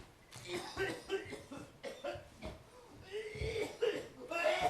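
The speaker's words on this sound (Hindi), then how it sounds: "आप तब से खांस क्यों रहे?" A man coughs in several short, harsh bursts at close range, mixed with throat-clearing and breathy sounds, spread unevenly across a few seconds.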